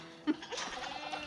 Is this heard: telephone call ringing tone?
no